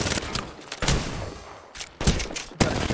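Shotgun blasts in the video game Apex Legends, several loud sharp bangs spaced irregularly across a short firefight, with close booming reports over game noise.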